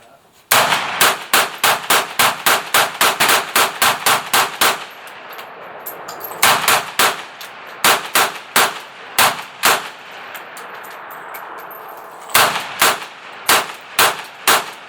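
AK-47 rifle test firing, loud close shots in rapid strings and quick bursts with short pauses between groups, each crack sharp and evenly spaced.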